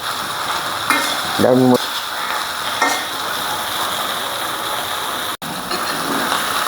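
Sliced onion frying in a pan of oil for a shrimp bhuna with nut paste gives a steady, close sizzle throughout, with a brief voiced sound briefly rising above it.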